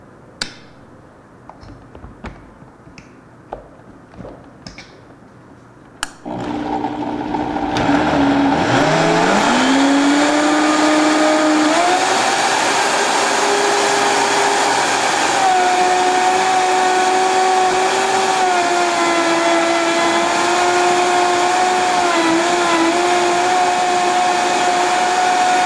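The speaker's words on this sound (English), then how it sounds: "I'm going to go ahead and start the blender just to incorporate the ingredients" A blender whirs through a berry smoothie mix of parsley and liquid, starting up after a few quiet clicks and settling into a loud, steady motor whine that holds to the end.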